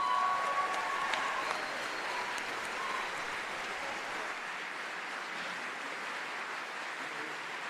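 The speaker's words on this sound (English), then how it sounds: "How about one more round of applause for all of our musicians?" An audience applauds high school band musicians at an all-county concert, a steady broad wash of clapping that holds level for several seconds and fades slightly toward the end.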